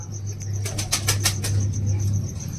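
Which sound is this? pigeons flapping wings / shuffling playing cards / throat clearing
pigeons flapping wings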